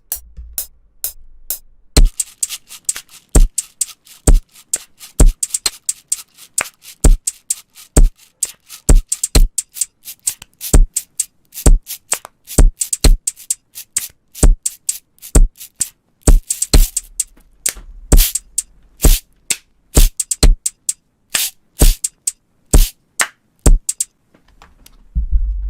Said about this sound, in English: I'm going to actually record some claps